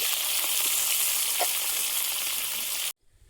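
Dried red chillies and chopped tomato frying in hot oil, a steady loud sizzle for about three seconds that cuts off abruptly into near silence.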